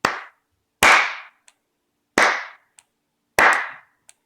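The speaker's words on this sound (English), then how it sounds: "so when I clap, that should trip it" Single hand claps set off a small solenoid rigged to react to sound: four sharp, loud claps spaced about a second apart, each followed by a faint tick from the solenoid, with silence between.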